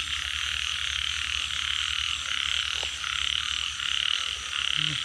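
Frogs croak in a steady chorus at night, with rapid pulsing calls layered over one another and a deeper repeated croak underneath, moderately loud and with no voices.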